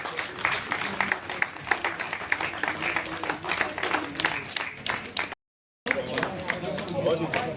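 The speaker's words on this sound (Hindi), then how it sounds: "तालियां बजती रहनी चाहिए।" An audience at a Hindi poetry recital applauds to honour a poet with dense, continuous clapping close by and a murmur of voices. The clapping briefly cuts out near the end, then resumes.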